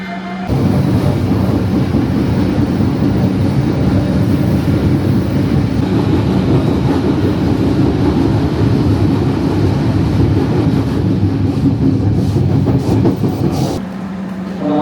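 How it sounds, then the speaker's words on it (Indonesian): Bengawan passenger train pulling into Purwokerto station during renovation works, a loud steady low rumble of wheels and rolling stock sustained nearly the whole time, with faint clickety-clack and no talk. "Bengawan sudah masuk di stasiun Purwokerto"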